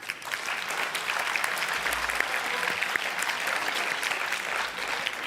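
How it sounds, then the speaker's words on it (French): Audience applause at a competition finale event, a dense, even wash of many hands clapping continuously for about five seconds, moderately distant. "On peut les applaudir."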